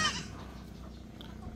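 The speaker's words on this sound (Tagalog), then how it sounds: "Ito na yung kambing natin, guys" Goat on a farm bleating once, briefly and faintly near the start, then low background noise with no talking.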